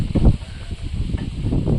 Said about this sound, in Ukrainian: А у нас у нас який вітер.